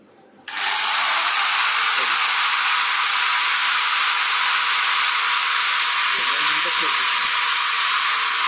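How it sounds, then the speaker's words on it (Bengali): An electric grinder switches on sharply after half a second and runs at a steady, loud, hissing high-pitched whine. Faint voices and a few soft knocks sit beneath it. "তা আমি গ্রাইন্ডিংটা চালু করতেছি"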